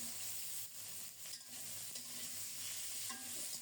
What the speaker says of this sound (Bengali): অল্প কিছুক্ষণ মিষ্টি কুমড়োটা নেড়ে চেড়ে এরপরে দেব আম।